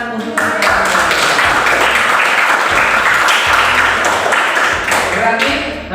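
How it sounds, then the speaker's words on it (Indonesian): Students in a classroom clap loudly and continuously for two classmates, a dense, close round of applause with sharp individual hand claps throughout. "tepuk tangan untuk mereka"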